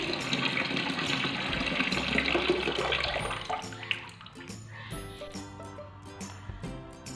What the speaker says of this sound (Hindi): और अब मैं ये पानी इसका ड्रेन कर लूँगी।